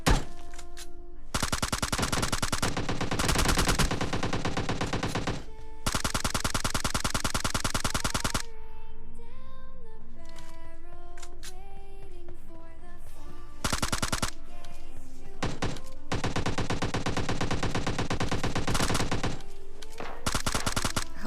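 Automatic gunfire bursts from the video game PUBG Lite, with long, loud rapid-fire strings separated by short gaps, and a passage of quieter game music and effects in the middle.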